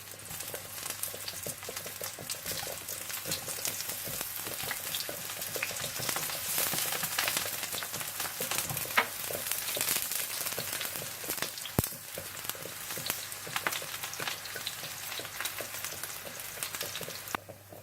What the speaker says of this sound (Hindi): इस तरह से आप बैंगन फ्राई कर लें